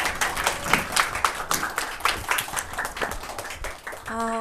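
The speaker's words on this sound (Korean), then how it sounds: "큰 박수 부탁드립니다" An audience at a school admissions information session claps in a dense, sustained burst of applause lasting several seconds, with a brief musical tone at the end.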